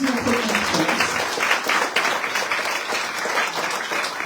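Lively audience applause for residents at the inauguration of a shared-housing home in Faramans, close and loud with uneven swells of clapping, and a voice briefly heard near the beginning.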